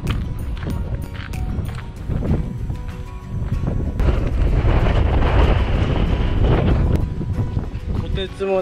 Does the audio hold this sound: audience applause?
no